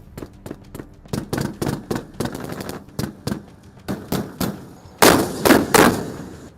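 Tank guns firing at about 15,500 feet altitude, heard as a rapid series of sharp, loud reports in irregular bursts, ending with three heavier, louder blasts.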